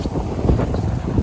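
Strong gusting wind during a snowstorm in Canada buffets the microphone with a steady, loud roar and low rumbling blasts, with no other sounds.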